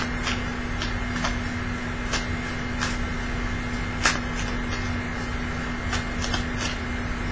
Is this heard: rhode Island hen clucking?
no